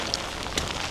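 Brief hiss of falling rain, a steady broadband patter with a couple of faint high drips, no voices.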